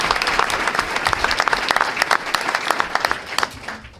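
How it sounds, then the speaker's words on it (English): A round of applause breaks out at a school board meeting, many hands clapping in a room, loud at first and gradually thinning out toward the end. "Round of applause for that."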